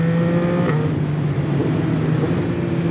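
A Yamaha MT-09 motorcycle engine pulls hard under acceleration, a loud, steady droning roar with a sustained tone that climbs slightly, heard close with no talking.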